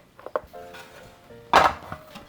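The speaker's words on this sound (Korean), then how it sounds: "이렇게 한 번만 잠깐 볶아주시면 돼요" Beef tripe stir-fried briefly in a hot pot for a Korean tripe hot pot, with metal utensil clinks and scrapes against the pan, one loud clattering scrape in the middle, close up with no talk.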